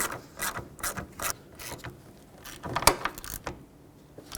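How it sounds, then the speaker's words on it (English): A ratchet tightens the hood latch bolts on a 2012-2020 Ford Focus, a close series of quick clicking bursts with short pauses between strokes, no talking. "Let's bolt up the hood latch."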